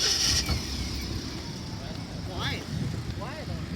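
A Mazda Miata with a new aftermarket muffler and a retrofitted push-button start idles quietly at an outdoor show-and-shine, its low steady rumble running under nearby talking.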